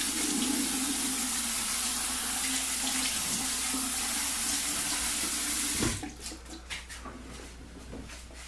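Cold water runs steadily from a bathroom tap in a broadband hiss, then cuts off partway through, leaving a few faint drips and splashes in a sink.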